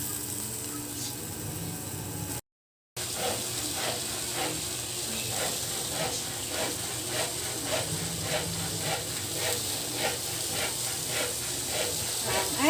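Steady hissing roar of a gas stove flame under a covered pot of tilapia paksiw, with faint rhythmic clicking and rattling over it, broken by a brief gap near the start.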